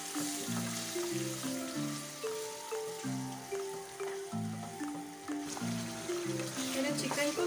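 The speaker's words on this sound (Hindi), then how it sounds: "कढ़ाई में मैंने ऑयल गरम कर दिया है, इसमें हम ये मैरिनेटेड चिकन डालेंगे। इसे हम भूनेंगे अच्छे से।" Marinated chicken fries in hot oil in a kadai, giving a soft, continuous sizzle under background music, with spoken narration at times.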